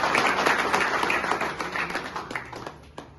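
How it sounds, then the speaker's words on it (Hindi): An audience at a medical forum event in India bursts into lively clapping, dense at first and thinning into scattered claps as it fades out, with no talk. "मंच पर उपस्थित हमारे जितने भी अधिकारी हैं और सेठ इंडिया चिकित्सक मंच के उन सभी के सम्मान में एक बार जोरदार ताली बजा"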